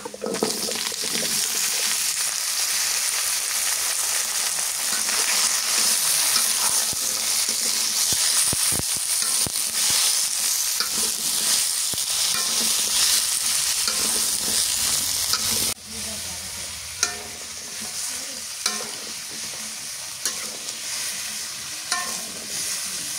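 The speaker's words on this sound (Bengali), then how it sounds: "এখন মিষ্টি কুমড়াটা দিয়ে দিই।" Sweet pumpkin frying in a pan over a clay stove, a steady bright sizzle with scraping stirs throughout, briefly quieter after a pause midway before the hiss resumes.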